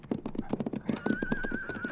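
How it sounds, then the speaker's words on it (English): Horse hooves clip-clop at a steady trotting pace in a radio drama, sharp close strikes with a whinny rising partway through, and no talk over them. "Listen. Yeah, it's a horse."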